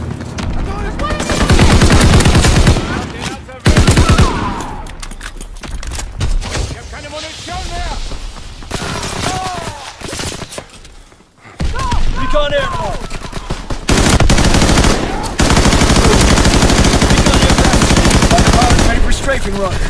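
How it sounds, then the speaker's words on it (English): Bursts of machine-gun fire and explosions from an aircraft strafing run in Call of Duty WW2 multiplayer come loud and close in long sustained barrages. A short lull falls midway, and game voice callouts sound in between. "Strafing run inbound."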